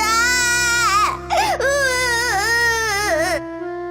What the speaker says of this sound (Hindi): उसमें से एक बच्चे के रोने की आवाज आने लगी।